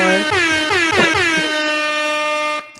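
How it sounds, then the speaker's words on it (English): A loud, blaring air horn blast sounds, holding steady for a couple of seconds before cutting off abruptly. "I do an air horn"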